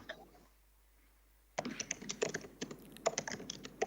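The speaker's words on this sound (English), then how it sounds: "And sorry, Mr. Mini, I think if you're typing, we can hear that" Rapid typing on a computer keyboard comes through a remote public hearing connection, starting abruptly after a quiet stretch and continuing as dense, close clicking.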